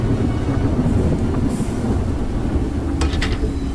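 Steady low rumble of a moving train in the horror game Choo-Choo Charles, a continuous rolling drone with faint clanks and a few brief high rattles near the end, no voices.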